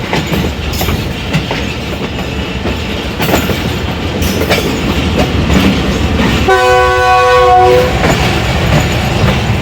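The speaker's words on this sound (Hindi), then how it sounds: "ताहिर महमूद साहब ने शरारतन विसल दिया ताकि लोग अंदर आ जाएं" The Awam Express train in fog, its horn blown in one sustained loud blast near the end, over steady rumble and clickety-clack of wheels on the rails.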